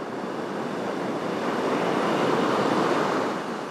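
Rough surf breaking steadily on the Caribbean coast of Costa Rica, a loud, continuous wash of waves with some wind rumble and no voices.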